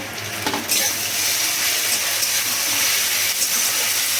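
A tablespoon of garlic paste hits hot oil in a frying pan and breaks into a loud, steady hissing sizzle that holds for several seconds.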